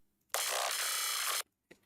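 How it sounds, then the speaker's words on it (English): A growl sound run through a frequency shifter set to 100 Hz at half dry/wet gives one loud, buzzing, gooey burst of about a second, standing alone in near silence with a faint blip after. "if you put a frequency shifter at like 100 hertz and then put the dry wet to like 50, it sounds like this."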